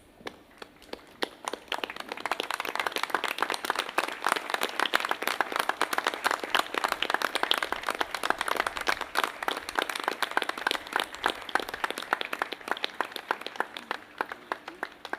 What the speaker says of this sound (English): may I invite you to please stand so that we may all give her a round of applause